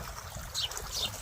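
Irrigation water trickles and pours steadily through a village crop field, a soft continuous wash with a few brighter splashy moments, no talk.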